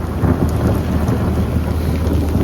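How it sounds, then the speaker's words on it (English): Heavy rain falling outdoors at a wharf during a storm, a loud dense steady patter with low rumbling beneath, close and continuous with no voices. "Oh, this is good rain, isn't it, Ray?"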